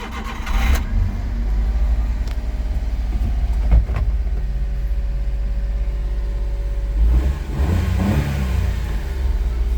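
The fuel-injected engine of a 2007 Suzuki Carry 4x4 idles and revs up, rumbling loudly up close, with a couple of throttle blips partway through.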